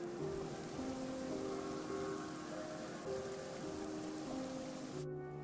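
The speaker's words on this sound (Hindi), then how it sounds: "जल्द ही तेज बरसात भी होने लग गई।" Heavy rain pours steadily in an animated retelling of The Thief Story, a dense, even hiss of falling water, with low musical tones sounding beneath it before cutting off abruptly at the end.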